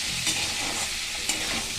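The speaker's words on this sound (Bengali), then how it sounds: "আলুগুলো একটু ভাজা হওয়ার পরেই টমেটোটা দিলাম" Potatoes and tomatoes fry in a pan with a black cumin (kalonji) tempering, giving a loud, continuous close sizzle with a couple of soft stirring scrapes and no talking.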